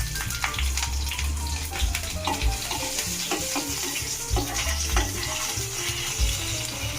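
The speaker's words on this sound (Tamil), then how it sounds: "எண்ணெய் காஞ்சிடுச்சு. ஒரே ஒரு லவங்கம், ஒரு பட்டை போட்டுக்கலாம். 4 பூண்டு, தட்டி வச்ச பூண்டு," One clove, a stick of cinnamon and crushed garlic fry in hot oil for a spiced potato curry, a busy continuous sizzle with crackling pops and stirring clatter, close up, with no speech.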